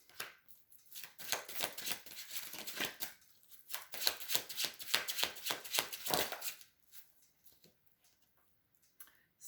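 Tarot cards being drawn and handled, a dense run of crisp slaps and riffling flicks close by, quieting to a few faint taps near the end; no talking.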